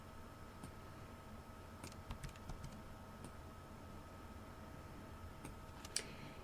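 Computer keyboard keystrokes during 3D modeling work, with quiet, sparse clicks spaced irregularly over a steady background hum and no talking.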